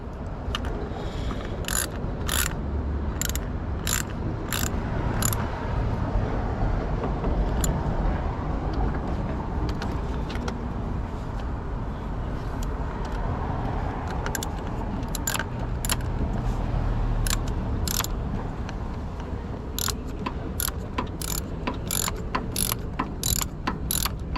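A ratchet wrench tightening a car battery hold-down, giving repeated quick bursts of clicking ratchet strokes over a steady background hum, close by and without talk.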